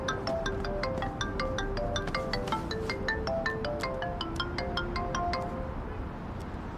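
A mobile phone ringtone plays a bright, repeating electronic melody, steady and fairly loud for the whole stretch with no voices over it.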